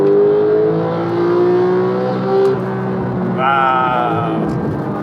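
A Porsche 911 GT3 991.2 engine pulls hard under acceleration on the road, a loud, steady-climbing mechanical howl that rises in pitch, with a brief shift-like dip before the note sweeps upward again.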